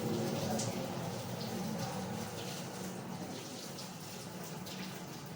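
Water pours steadily out of a tilted, capped container, a continuous gushing splash that holds fairly even and slowly eases over several seconds, with no talk.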